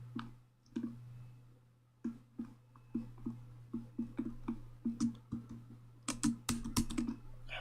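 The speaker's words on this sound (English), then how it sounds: "Having problems with my keyboard here." Clicking on a computer keyboard during live day trading, a quiet nearby run of fairly even keystrokes with short pauses that grows busier and sharper toward the end over a low steady hum.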